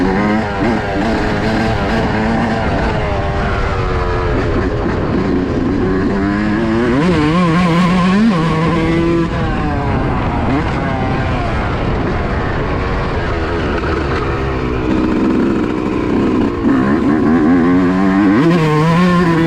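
A Yamaha YZ125 two-stroke dirt bike revs loudly while being ridden on a trail, its engine note rising and falling continuously through gear changes, up close and dominant throughout.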